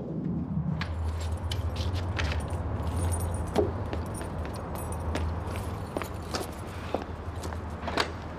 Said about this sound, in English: I locked the doors.